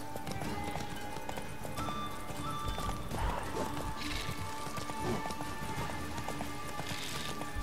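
Horse hooves clip-clopping at a gallop in The Witcher 3, a quick steady rhythm of thuds that runs the whole time under faint game ambience.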